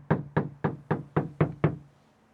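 Seven evenly spaced knocks by hand on a bare Toyota Hiace van panel with no sound deadening. Each hollow metallic thud rings briefly, close and clear, and the tail fades after the last knock.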